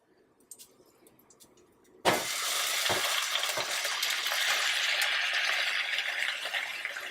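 Chopped vegetables for Jamaican ackee and saltfish drop into a hot pan after a quiet moment, bursting into a loud, steady sizzle that holds throughout, broken by a few soft stirring knocks.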